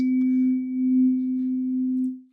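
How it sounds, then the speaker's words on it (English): A breathing pacer tone sounds once as a single clean, steady pure tone, held loud for about two seconds before quickly fading out. "get an idea of the distance between those 2 tones. It's about 6 seconds"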